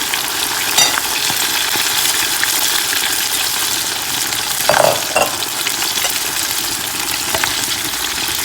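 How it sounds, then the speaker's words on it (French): Fish fries in very hot oil for an African dish, a loud continuous close sizzle and crackle with a few brief stirring scrapes and bubbling bursts, no voices. "donc maintenant je vais faire frire."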